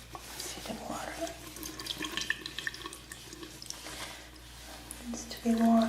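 Warm water runs from a tap in a staged drug store clinic setting, a soft, close trickle and drip under gentle whispered talk, with a louder splash near the end.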